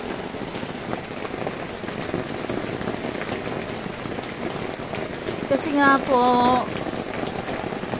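Rain falls on a roof and tarpaulin at a small shop in a Deca Homes housing area in Meycauayan, a continuous close hiss and patter, with a voice speaking briefly near the end.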